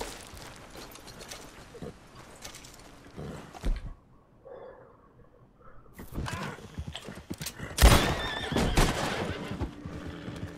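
A horse in the video game Red Dead Redemption II whinnies loudly several times amid clip-clop hooves and scattered game sounds, with a brief quiet gap in the middle.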